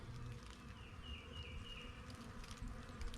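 Honeybees buzzing around a winter hive entrance as they fly in and out, a steady insect drone with a faint higher whine drifting through, over low outdoor rumble, with no voices.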